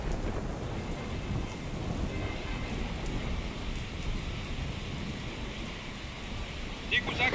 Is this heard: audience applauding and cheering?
no